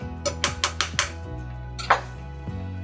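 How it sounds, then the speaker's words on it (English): A spoon scraping and clinking against a pot while stirring homemade cheese sauce for baked mac and cheese, several quick metallic taps in a row and then one more, over a steady stovetop hum. "Just stir it around as the cheese melts."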